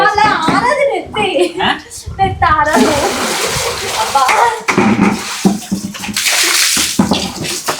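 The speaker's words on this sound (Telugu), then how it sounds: "వాటర్ పోసి పొట్టు చేద్దాం ఇప్పుడు." Water is poured and splashes loudly at close range in a steady gush with sloshing bursts during a home prank, while voices talk over it.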